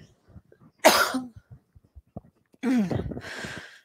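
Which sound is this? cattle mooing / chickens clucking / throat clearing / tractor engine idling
throat clearing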